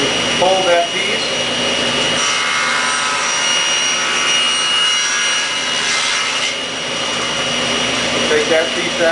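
A power saw runs steadily and loudly while cutting wood staves for a segmented bowl, its whine nearly constant with a slight dip in pitch near the end, and a voice talks over it.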